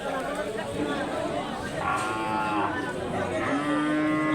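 Cattle moo loudly at a livestock market selling cows for Eid al-Adha, several long lowing calls over a busy background of crowd chatter and voices.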